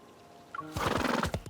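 Horse in the video game Love and Deepspace giving a short whinny that breaks into a burst of rapid snorting, brief and fairly close, with no speech.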